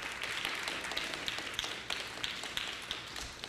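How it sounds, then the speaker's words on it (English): Scattered, fairly faint applause rises from the audience at a high school design prize event as a college president is introduced, with individual claps audible in an uneven patter. "Applause, please."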